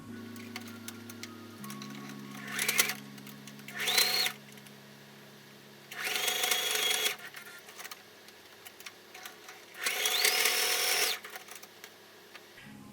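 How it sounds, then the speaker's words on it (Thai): Sewing machine stitching a fabric strap for a DIY tissue roll cover, running in three or four separate bursts of a few seconds each, with quiet pauses between them and no talk. "จากนั้นให้เพื่อนๆนำไปเย็บให้ติดกันค่ะ"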